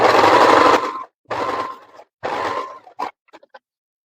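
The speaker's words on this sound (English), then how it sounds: "we're going to baste our stitches right at the edge again for this side." A sewing machine runs basting stitches along a fabric edge of a sunflower crossbody bag, three loud close bursts of motor whir separated by short pauses, ending with a few brief clicks.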